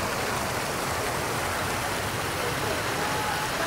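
Fountain jets spray into a pool in front of a grand building, a dense continuous hiss of falling water filling the whole clip, close and steady with no pauses.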